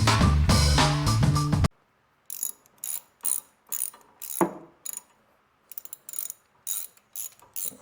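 A 1/4 inch drive ratchet clicks in short bursts while snugging bolts on a 1986 Mustang SVO, about ten quick rattling pulls separated by brief pauses, close and clear, following a loud burst of music at the start.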